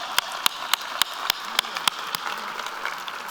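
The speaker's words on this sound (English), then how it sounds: "I think that deserves some applause" Scattered applause at a university service recognition luncheon: a handful of sharp, distinct claps spaced out over a quiet room, thinning toward the end.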